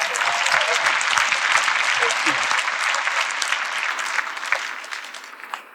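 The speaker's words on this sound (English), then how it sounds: "One more round of applause for JR." An audience at an MLK holiday program in Lexington, Kentucky, claps loudly and steadily for several seconds after a keynote speech, the applause slowly thinning toward the end.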